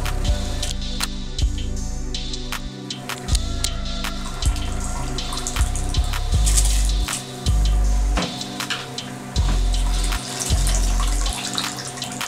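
Soaked rice is added to a pot of boiling water while cooking white mutton biryani, with continuous splashing and bubbling broken by repeated soft thumps.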